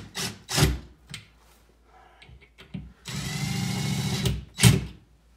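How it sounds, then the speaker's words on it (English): Screws driven tighter into a DIY curtain rod bracket with a power drill: a few short thumps and rubs, then a sustained whirring drill burst of about a second, ending in a close knock. "I'm going to go ahead and put the screws in a little bit tighter."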